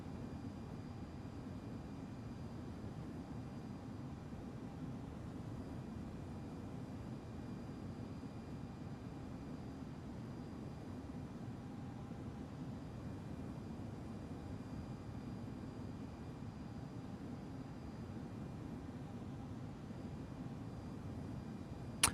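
A Boeing 767 in the X-Plane 11 flight simulator rolls for takeoff, giving a steady low engine roar with a broadband hiss that stays even and unbroken throughout, with no voices over it.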